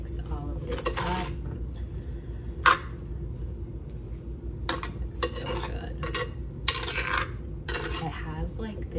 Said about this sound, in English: I'm just gonna go ahead and mix all of this up